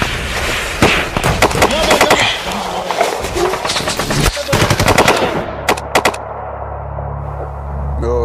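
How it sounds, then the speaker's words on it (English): Machine gun fire in a battle during a military operation, loud rapid bursts of shots cracking in quick rhythm over a rumbling background, then a few final bursts before the firing dies into a low hum. "the Adam base came upon simultaneous fire from an unseen enemy"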